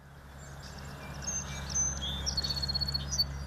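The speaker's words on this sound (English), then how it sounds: "It's the birds chirping in the morning." Birds chirp and tweet in the morning, the calls light and scattered at moderate distance over a steady low rumble of background noise, with no voices.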